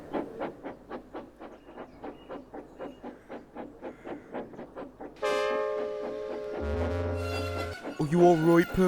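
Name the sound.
cartoon steam engine James rolling down the hill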